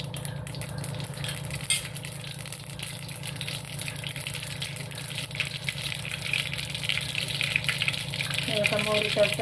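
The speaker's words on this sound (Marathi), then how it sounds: "आता आपण मोरी टाकू" Mustard seeds sizzle and crackle in hot oil in a pan, a steady close hiss and spatter throughout, with a voice talking briefly over it.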